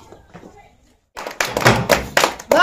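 An audience of children and adults bursts into applause at a bottle-and-ball blowing challenge, several loud clapping bursts following a quiet stretch of murmured talk.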